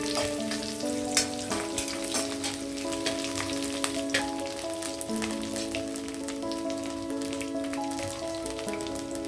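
Dal, garlic and dried red chilli frying in hot oil for a pumpkin fry, a continuous soft sizzle with scattered crackles and faint sustained tones underneath.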